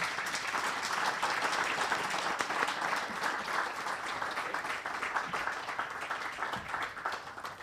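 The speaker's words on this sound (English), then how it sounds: "An applause for my panel." Sustained applause from a conference audience for a panel, dense and even throughout with no break.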